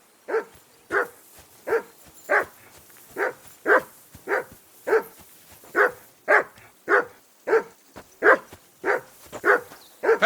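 Dog barking in the medieval video game Kingdom Come Deliverance II at a riverbank camp, a long regular series of about eighteen sharp, evenly spaced barks, close and clear with no talk.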